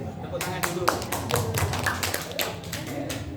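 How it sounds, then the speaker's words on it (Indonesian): A congregation claps hands together during a Sunday worship service at a Tabernakel church in Indonesia, with steady, evenly spaced claps over a low murmur of voices and background sound. "ayo tepuk tangan dulu"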